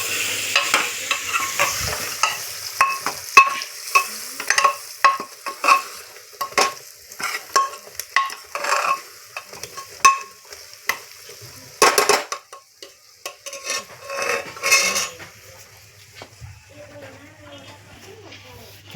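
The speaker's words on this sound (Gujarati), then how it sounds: "અને હવે એક વખત હલાવી રાખવાનું છે." Whole brinjal curry with coriander-cumin powder and spices is stirred in a frying pan, giving repeated scraping and clinking of the spoon against metal over a steady sizzle, with a person talking throughout.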